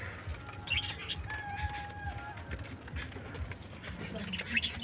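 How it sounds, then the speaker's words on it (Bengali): A large male Paschima pigeon calls from a loft where birds sit on eggs, with a brief tonal cooing note among faint chirps, partly under someone talking nearby. "এই দেখুন পশ্চিমা নটটা দেখুন ডাকছে"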